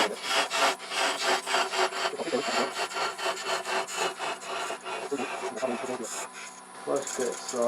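Rhythmic rasping strokes of wood being sanded by hand, close and steady, each pass scratching back and forth with brief pauses between.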